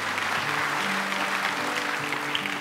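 A congregation claps in church during a Christmas morning service, steady sustained applause with organ-like tones held underneath.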